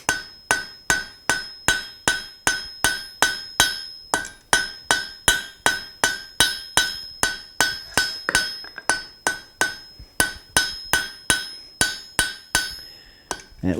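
A hammer strikes steel at full welding heat on an anvil, forge welding a blacksmith's birdcage handle: loud, ringing, evenly spaced blows, about two per second, with a brief pause partway through.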